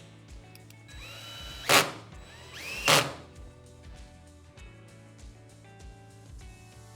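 A power drill drives 14.5 mm system screws into brackets on a Blum REVEGO cabinet fascia, with two short loud whirring bursts followed by fainter ones and light handling knocks in between.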